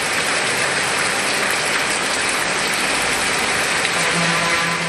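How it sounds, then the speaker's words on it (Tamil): Light drizzling rain keeps up a constant soft hiss, a continuous wash of fine drops with a faint low hum entering near the end. "சுமார் அரை மணி நேரத்திற்கு மேலாக சாரல் மழை பெய்தது"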